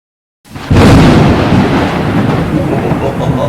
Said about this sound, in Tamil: அந்த டைம் பார்த்து ஜோன்னு மழை பெய்ய ஆரம்பிச்சுது.